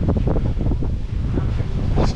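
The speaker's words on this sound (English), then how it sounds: "It actually feels good now that the wind's blowing." Steady wind gusting across an exposed hilltop at Big Buddha Hill in Pattaya, Thailand, a loud continuous low rumble buffeting the microphone throughout with no pauses.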